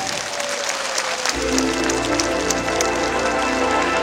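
Audience applause at an Abdal Musa commemoration event, a dense, rain-like wash of clapping that bursts in after a brief quieter opening and holds steady and loud to the end.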